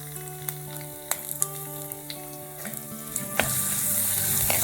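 Green chili and ginger-garlic paste sizzling in a pan, with spatula knocks and scrapes at irregular intervals and the frying growing louder toward the end; no speech.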